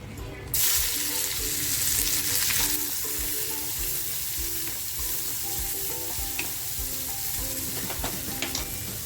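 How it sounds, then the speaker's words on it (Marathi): Chopped onion tipped into a small amount of hot oil left from frying prawns, giving a loud, steady sizzle with soft stirring scrapes, no voices. "कोळंबी तळलेलं तेल आहे ना बघा अगदी थोडंसं तेल आहे कांदा टाकते"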